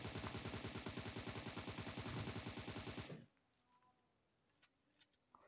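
Rapid automatic gunfire in the PUBG Mobile video game during jump and crouch firing practice, a dense, evenly spaced burst of shots for about three seconds, then quiet with a few faint clicks.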